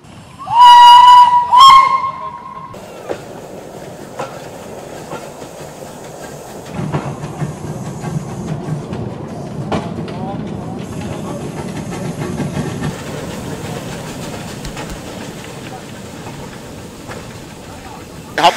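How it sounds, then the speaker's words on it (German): A narrow-gauge steam locomotive at a narrow-gauge railway festival in Białośliwie gives a loud, close two-part steam whistle at the start. It then rolls along the open line with chuffing, clanking and rail noise at a steadier, quieter level. "Aber die zahlreich erschienenen Bahnfans freuen sich natürlich besonders, wenn die Dampfloks auf offener Strecke fahren."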